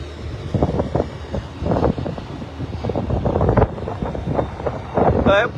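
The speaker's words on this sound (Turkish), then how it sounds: "Rüzgar var abi rüzgar." Gusty wind rumbling against the microphone in uneven bursts, with people talking over it close by.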